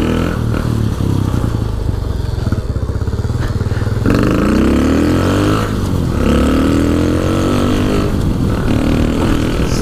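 A Shineray motorcycle engine runs loud and close, putting along at low revs and then rising in rising and falling revving sweeps, riding through mud with a flat pneu.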